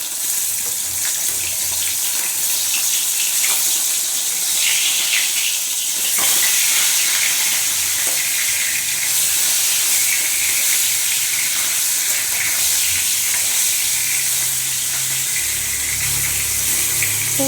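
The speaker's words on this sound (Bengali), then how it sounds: "মাছটা ফুটছে" Fish simmering and bubbling in a pan at home in the morning, a steady close hissing, spitting boil that runs on without pause, a low rumble joining near the end.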